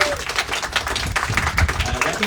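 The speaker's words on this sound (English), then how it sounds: "Big round of applause for everybody." Applause from a crowd at an outdoor rooftop clean-energy rally, dense steady clapping throughout, close and fairly loud.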